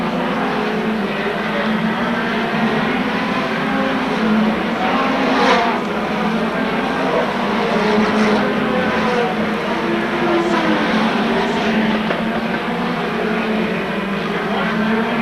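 Race cars roaring around the oval at Seekonk Speedway during the 1995 DA Venditti Memorial, a continuous loud engine drone with cars passing near and far and faint tire noise, no voices.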